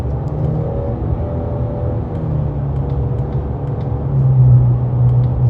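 A Ford Mustang EcoBoost S650 with a 10-speed automatic makes a steady engine drone during a paddle-shift downshift, and the revs lift noticeably near the end.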